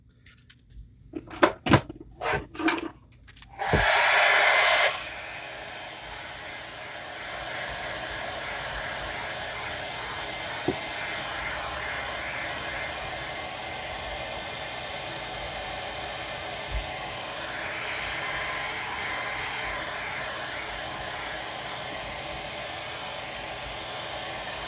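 A hair dryer blows steadily over a damp watercolor fall landscape painting, a loud continuous whoosh running close and unbroken for about twenty seconds after a few brief bursts and knocks at the start.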